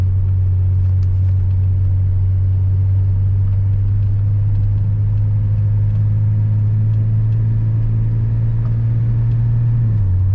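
A GS motorcycle engine pulls in second gear, holding a loud, steady low drone close to the rider with little change in pitch, dipping slightly near the end.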